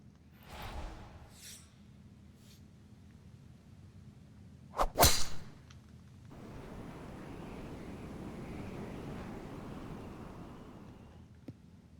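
Golf tee shot in Let's Golf, a sharp whoosh and crack of the swing striking the ball, followed by a soft rising whoosh of wind and crowd-like ambience as the drive carries, with no talk.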